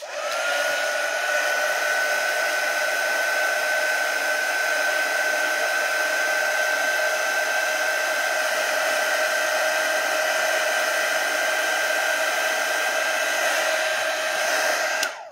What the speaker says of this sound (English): I'm grabbing my heat gun.